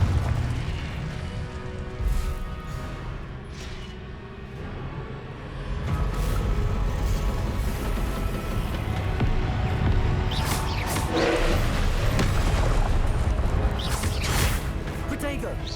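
Confringo blasting spell explosions in Hogwarts Legacy, deep booming bursts and crackling impacts layered over dense combat noise, loud and close, with a voice speaking over the fighting.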